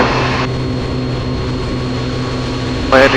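A Piper Comanche 250 propeller plane on its takeoff run, with a loud, steady engine and propeller drone heard from inside the cabin throughout, and a brief burst of radio or cockpit voice at the end.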